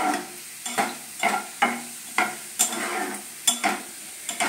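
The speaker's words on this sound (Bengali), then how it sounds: "এই রসুন কুচিগুলো একটু নাড়বো" Chopped garlic frying in oil is stirred with a utensil, giving about ten sharp scraping strokes in a steady rhythm over a soft, continuous sizzle, all close up with no talking.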